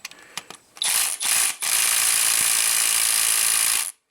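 Ratchet working loose the tight 6mm hex bolts on a plastic lower intake manifold of a Hyundai GDI engine: a few short clicks, then three long, loud, steady bursts of rapid ratcheting, close up, with no talk.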